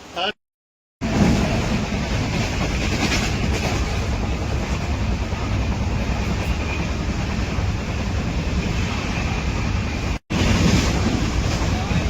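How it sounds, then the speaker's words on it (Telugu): Loud continuous rumble and rush of the Ganga Kaveri Express train moving along the tracks at about 110 km/h, with wind buffeting the microphone; two brief dropouts interrupt it. "వన్ 10 స్పీడ్ లో అయితే వెళ్తుంది ట్రైన్ ఇప్పుడు ప్రెసెంట్."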